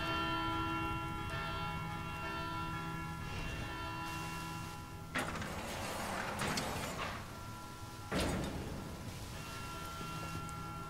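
Church bell ringing when shot in Resident Evil 6: steady faint tonal ringing with sustained bell overtones under low background ambience, struck again by a couple of sharp impacts midway and later, no talk.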